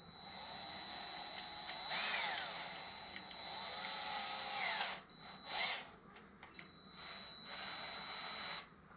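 Two-to-one Ligari countertop epoxy resin being mixed with a power drill mixer, a loud steady whine that rises and dips, then stops and restarts in short bursts near the end.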